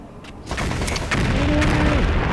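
A deep, rumbling explosion in the video game MechCommander 2 booms and rolls on, loud and sustained, with a rising whine and crackling debris over a continuous low roar.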